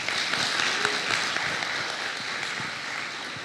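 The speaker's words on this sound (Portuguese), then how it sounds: "Salva de palmas para ele" A crowd claps continuously, a dense and steady patter of applause that carries on without pause.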